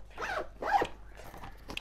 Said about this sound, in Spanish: Yo le puse este paracord para que sea más fácil tirar el cierre y abrirlo rápidamente.